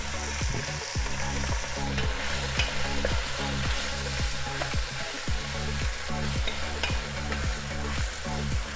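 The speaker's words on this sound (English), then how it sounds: "Drop your meat in." Beef pieces dropped into hot oil in a frying pan, giving a loud, dense, unbroken sizzle with rhythmic pulsing underneath, close and steady throughout with no talking.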